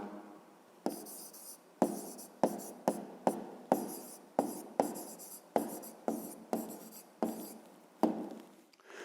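A pen writes an answer by hand on paper in steady, rhythmic strokes, about a dozen sharp scratches close by in a quiet room with no talking.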